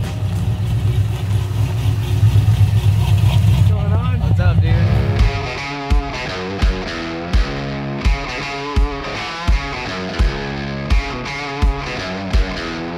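A supercharged 1969 Chevrolet Chevelle Malibu rumbles loudly nearby at the port of Los Angeles, a steady heavy drone for a few seconds before a series of regular sharp pulses, with people talking over it.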